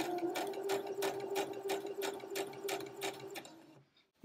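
Sewing machine stitching a sleeve onto fabric, running close and steady in a rapid even rhythm of needle strokes for several seconds before stopping, followed by a brief sharp click at the end.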